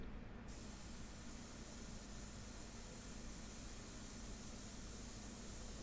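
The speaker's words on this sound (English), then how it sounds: "you can come in with the airbrush and you can put some more sepia right on top of that" An airbrush sprays sepia paint onto an academic portrait, giving a steady, even hiss of compressed air that runs unbroken from start to finish at moderate, close level.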